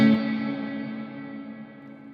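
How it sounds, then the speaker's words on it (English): A guitar note rings out through a Strymon BigSky reverb pedal, its tail washing and slowly fading over about two seconds. "So right now, the reverb happens right away as soon as you engage."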